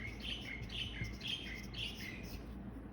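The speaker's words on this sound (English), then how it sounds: "That's the bird chirping sound." Birds chirp repeatedly in quick tweets over a steady, fairly loud background noise.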